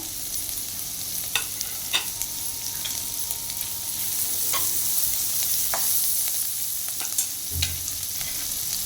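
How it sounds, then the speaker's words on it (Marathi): Chopped spring onion sizzles in melted butter in a pan for a vegetable soup, a steady, fairly loud frying hiss dotted with light clicks and stirring scrapes throughout. "बटर वितळे पातीचा कांदा टाकूया आता कांदा चांगला भाजून घ्यायचा"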